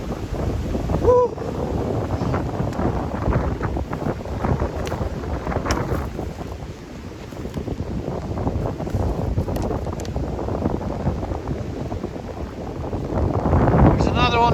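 Strong wind gusts and buffets across the microphone outdoors during a snowstorm while coyote snares are checked, a steady roaring rush that runs the whole time, with a voice briefly in the background.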